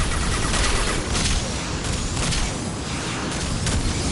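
Sustained automatic fire from the Locust submachine gun in Mass Effect 2, a loud, dense rattle of rapid shots running continuously with booming impacts layered through the mix.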